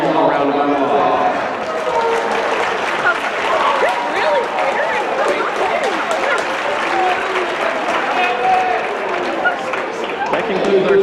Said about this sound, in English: Let's give these parents all a round of applause.